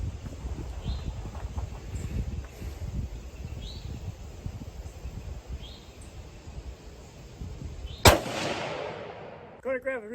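A single sharp rifle shot from a Tikka T3 chambered in .243 Winchester cracks loudly near the end of the clip, after a stretch of quiet outdoor ambience with faint birds, and a brief ringing tail follows.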